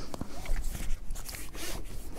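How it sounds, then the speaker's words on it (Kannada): A car seat belt is pulled across and fastened, with a quick sequence of close scraping, sliding webbing and small plastic clicks. "seat belt ಹಾಕೊಂಡ್ಬಿಡ್ತೇನೆ"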